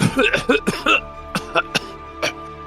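A voice imitates a bout of coughing: several rough, hacking coughs close to the mic, a short pause, then a few more isolated coughs.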